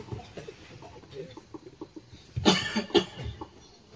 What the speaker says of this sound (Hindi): अपन खांस रहे।